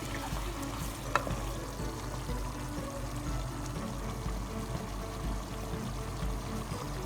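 Beef tripe (ojhri) being fried in a pan with garam masala in a Lahori-style Pakistani recipe, giving a steady soft sizzle throughout with a faint clink near the start.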